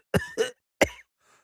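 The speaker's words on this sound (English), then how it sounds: "Cough." Two sharp coughs in quick succession, a short pause, then a third cough, close and loud, with a faint trailing rasp of breath after it.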